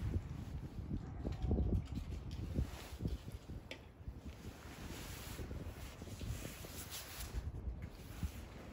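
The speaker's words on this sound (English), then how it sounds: "It's just windy." Wind on a gusty January day outdoors: steady, blustery rumbling and buffeting on the microphone, louder in bursts, with no one talking.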